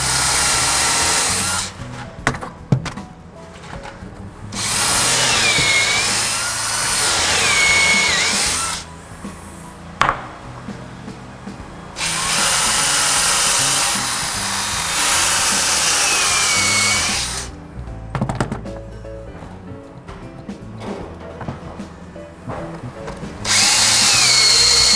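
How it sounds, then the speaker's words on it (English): A power drill runs in several long whining bursts separated by short pauses, loud and close, with occasional clicks and handling noise between runs, while building a boat deck. "Want to drill those over there, Clint?"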